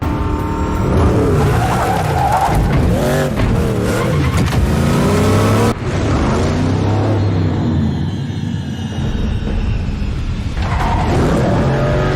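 Batmobile car chase from a Batman film, with engines roaring and revving, tires skidding and squealing, loud and continuous action mixed with score, with no talk.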